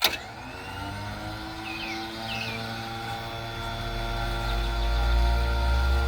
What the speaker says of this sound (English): Now we'll wind this bugger back in.